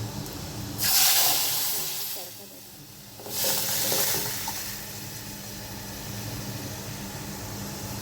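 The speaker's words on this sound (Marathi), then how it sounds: "हळद परतत आल्यावर" Turmeric and a little cumin sautéing in hot oil, two loud bursts of sizzling hiss over a low background while a person talks.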